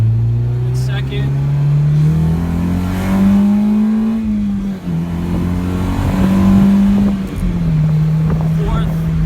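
A 1997 Honda Civic with a K20 engine revs and pulls hard through the gears, its low drone climbing in pitch with brief dips at each shift, loud and close.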